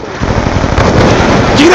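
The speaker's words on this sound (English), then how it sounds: "Throwing frag!" A frag grenade detonates in a video game as a broad, rumbling blast that fills the short stretch, with dense in-game noise and voices beneath it.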